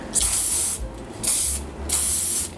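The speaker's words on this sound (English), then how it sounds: "I would use some hairspray actually" Three loud, close hairspray bursts hiss out in steady succession onto a teased vintage hairstyle, each lasting about half a second with short pauses between, no talking.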